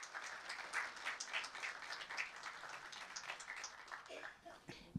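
Applause from the audience at the end of Jorge Coli's Sempre um Papo talk sounds as a soft, continuous patter in the background while a voice speaks over it.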